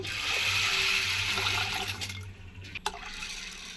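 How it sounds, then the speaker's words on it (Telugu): Water rushes and gurgles as it pours steadily into a pot of sorghum, then stops, followed by a short metallic knock. "ఇప్పుడు ఈ నీళ్ళు కూడా తీసేసి వేరే దాబర్లోకి తీసుకుందాం వీటిని అయితే నీళ్ళు పోసుకుందాం"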